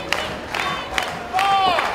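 A wrestling crowd cheers and shouts in bursts around the ring, with sharp yells and rising whistle-like calls over a lively murmur.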